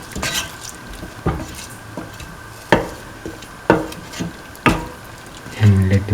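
Rice mixture gets stirred in a pot, with a spoon knocking and scraping against the sides in a few distinct clunks spaced about a second apart, close and fairly loud, followed by a brief low rumble at the end.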